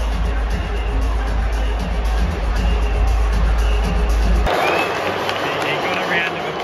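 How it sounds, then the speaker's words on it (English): Stadium crowd at a rugby league match, Eels versus Cowboys, roars and applauds a pitch invader as broad, loud noise beneath close talking, then shifts to a brighter cheering swell. "He got a round of applause."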